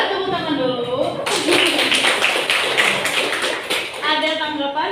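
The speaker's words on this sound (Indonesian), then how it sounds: "Boleh tepuk tangan dulu." A classroom audience breaks into a burst of applause lasting a few seconds, dense and close, with voices speaking just before and after it.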